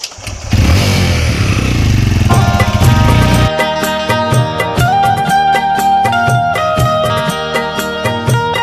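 A motorcycle engine roars close by for about three seconds in a rural Gujarati comedy scene, then gives way to upbeat music with steady rhythmic notes.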